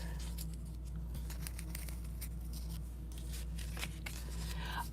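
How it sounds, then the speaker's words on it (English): Scissors snip the edges off paper strips for a stamped card, a series of soft close crisp cuts and paper rustles over a steady low room hum. "And then cut off the edges."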